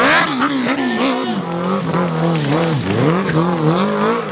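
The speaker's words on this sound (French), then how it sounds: "Jean remonte complètement en burnant." A motorcycle does a burnout at a Red Zone moto club bike festival, its tire squealing continuously and loudly over a roaring, revving engine throughout, close to the listener.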